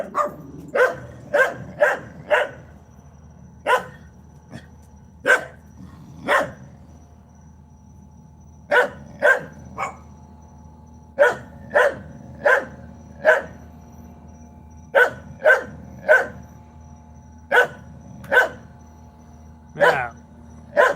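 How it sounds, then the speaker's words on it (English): A dog barks repeatedly in bursts of two or three sharp woofs, with short pauses between them, fairly close in a kitchen during live cooking and over a low steady background hum. "Oh yeah, that needs to be barked at."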